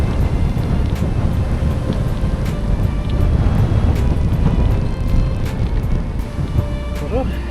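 Gusty wind buffeting a cyclist's microphone on a windy road once the sheltering trees end, a steady loud rumbling roar with surging gusts throughout.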